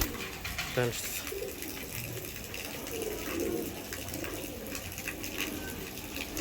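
Giribaz pigeons coo softly among the loft birds, with someone talking over them and a faint flutter of wings, close and continuous.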